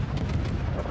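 Naval guns fire from an Italian tier-3 cruiser in World of Warships, a dense, continuous low rumble of booming shots blending together at close range with no gaps.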